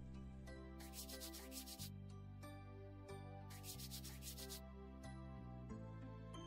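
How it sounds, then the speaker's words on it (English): Sandpaper rubs iron nails clean. Two short bursts of quiet scratchy scraping stand out over a low steady hum, with faint clinks between them. "Take three iron nails and clean them by rubbing with sandpaper."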